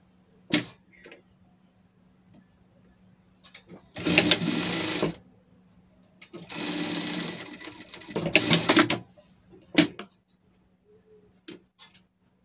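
A sewing machine runs a seam on ribbed knit fabric in two loud, close bursts of rapid stitching, separated by short pauses and scattered clicks, with no speech.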